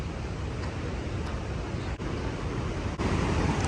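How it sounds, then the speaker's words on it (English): Epupa Falls waterfall in Namibia, seen from a lodge, pours as a steady, dense, broadband roar that fills the whole stretch without pause, with no voices. "And this is the fall from the lodge."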